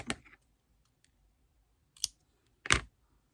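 Small scissors snipping paper while making a scrapbook art-journal collage: a few sharp, close cuts spaced well apart, with quiet pauses between them.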